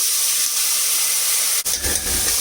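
Hot oil hisses steadily, then a sharp burst of sizzling erupts as garlic paste drops into it while cooking degi aloo gosht, the frying settling into a bubbling crackle.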